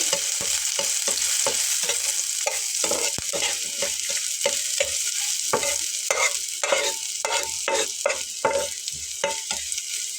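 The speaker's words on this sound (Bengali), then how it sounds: "তারপরে আমি এখানে কয়েক কোয়া রসুন কুচি করে নিলাম খুব ভালোভাবে এটাকে একটু ভেজে নেব" Chopped garlic cloves fry in hot oil with a steady close sizzle while a spatula scrapes and stirs in quick repeated strokes, no voices present.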